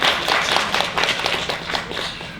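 Clapping at a groundbreaking ceremony for a school's new arts and communication magnet academy building, close-sounding, brisk claps in an uneven rhythm that stay fairly loud throughout a short burst.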